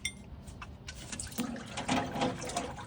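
Motor oil pours from the drain hole of a 2023 Ford Transit 350HD with a 3.5 EcoBoost, a steady liquid splashing and trickling stream close by that grows a little fuller partway through, with no talk.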